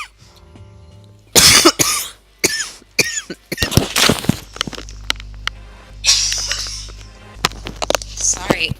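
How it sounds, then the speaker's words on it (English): Several sharp, close coughs burst out in irregular clusters, loud and harsh, with short gaps and breathy pauses between them. "Sorry, I still have this cough."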